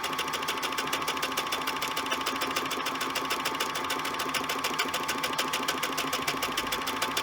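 A sewing machine runs steadily and fast while stitching a one-step automatic buttonhole in zigzag. Its even needle clatter holds at a constant level throughout, with no voices.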